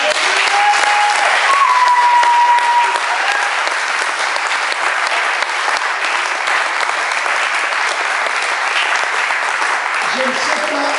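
A church congregation claims applause during a French sermon, a dense, steady roar of clapping lasting throughout with a brief tonal whistle or voice near the start.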